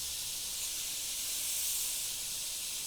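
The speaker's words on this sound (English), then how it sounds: "you can notice straight away how much smoother the airbrush will run." Airbrush spraying thinned paint mixed at a 1:1 ratio, a smooth, even hiss held close and unbroken throughout.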